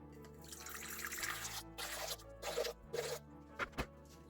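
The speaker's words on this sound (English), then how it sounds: "in my mixer, I'm going to add 283 grams of warm water" Warm water is poured into a stand mixer bowl while making no-knead sourdough bread, a faint trickling and splashing in several short bursts with brief pauses between.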